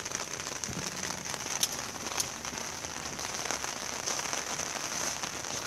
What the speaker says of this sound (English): I just gave you something quick because it's raining.